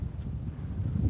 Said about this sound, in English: It is windy as crap around here today.